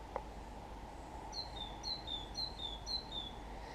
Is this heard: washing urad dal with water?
no